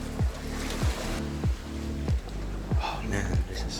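Rough, choppy water surges and slaps against stone at an island castle, with repeated rhythmic wave hits over a constant churning wash, close and loud.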